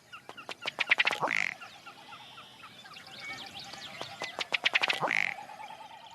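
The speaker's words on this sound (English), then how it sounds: "a ruddy duck" A ruddy duck calling in a marsh, giving quick accelerating series of dry ticking notes that end in a louder burp-like note, repeated twice, close and clear with faint background birdsong.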